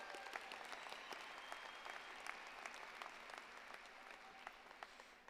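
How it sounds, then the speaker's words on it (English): An audience at a high school graduation ceremony claps steadily, a dense, sustained patter of many hands heard from some distance and fairly quiet throughout. "let's clap for my mom"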